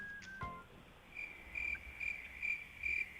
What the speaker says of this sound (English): All right, let's hear our crickets.